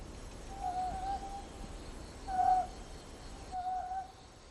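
Owl hooting in Taiwan, three soft tonal hoots spaced a second or so apart over a faint hiss of night background, fairly distant with no voices.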